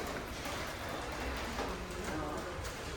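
Steady, continuous rain falls on a mountain stop during a motorcycle ride through Ladakh, a close, dense hiss with no breaks and no talking.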